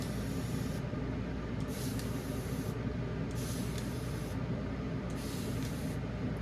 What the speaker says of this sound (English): I don't want to spray it full of water. Just a little mist.